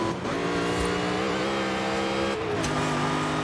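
A 2005 Ford GT in Forza Horizon 5 revs hard under acceleration, a loud steady engine drone holding high and then dipping briefly at a gear shift before climbing again, with no voices.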